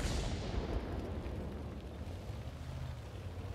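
An artillery shell explodes in World of Tanks, a loud low rumbling blast that trails off into a sustained noisy roar with no voices.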